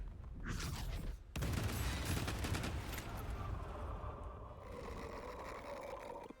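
A Fatal Barrage attack in Baldur's Gate III: a loud, rapid fusillade of gunshots rattles out in dense bursts, then tails off into a mechanical clatter and lingering echoes.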